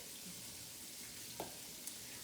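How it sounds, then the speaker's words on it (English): Jamaican curry shrimp fry in a pan with a faint, steady sizzle and hiss, marked by a couple of small pops and clicks. "these shrimps are frying. Ooh, they're frying real good."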